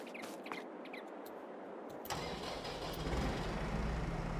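In Farming Simulator 22, a tractor's engine cranks and catches about midway, then settles into a steady, rising mid-pitched idle, loud and close, with no one talking.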